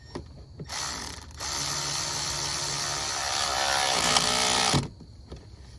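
A torque wrench clicks on the valve cover bolts of a 2006 Chrysler Town & Country minivan in a close, continuous rapid ratcheting. A brief pause comes near the start, and the sound stops abruptly near the end.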